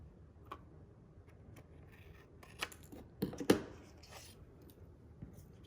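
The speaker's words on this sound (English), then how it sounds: "Just grab my snips and cut it to size." Snips cutting card stock to size for a handmade fall birthday card: a few crisp snipping clicks cluster near the middle, the loudest two close together, with quiet pauses around them and no talk.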